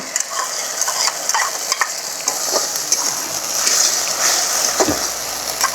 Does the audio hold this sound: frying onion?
yes